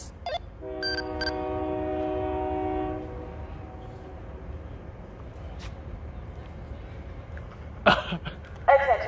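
A train horn blares for a few seconds, then the rumble of a passing train continues with faint clanks and rattles nearby.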